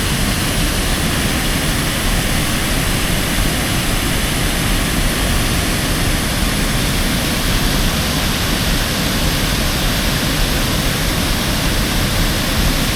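A small waterfall in Piaseczno, nicknamed Niagara, roars as a loud, constant broadband rush of falling water, close and unbroken.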